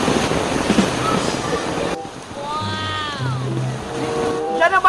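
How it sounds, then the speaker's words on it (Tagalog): A strong, fast-flowing river rushes with a loud, dense roar for a couple of seconds, then drops to a quieter wash with faint voices and whistling tones over it. "Ang lakas ng ilog."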